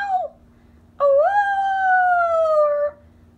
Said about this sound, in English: Give me a howler,